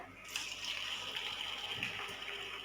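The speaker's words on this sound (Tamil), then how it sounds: "அதை உருண்டை பிடிச்சி இப்போ எண்ணெயில் போடுறேன்" Vegetable balls made from a mixed batter dropping into hot oil for South Indian frying: a soft onset then a steady, faint hissing sizzle that continues evenly.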